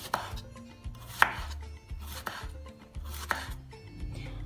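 Several distinct close knife strokes land on a board as a cucumber is cut into thin strips, spaced about one per second with sharp taps and a faint rasp between them.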